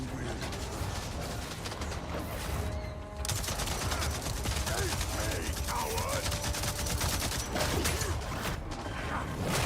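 Rapid gunfire bursts in Avatar Frontiers of Pandora, loud and dense with mechanical rattles and clanks, a short lull near the third second, then continuous firing under game sound.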